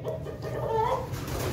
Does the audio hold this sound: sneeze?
no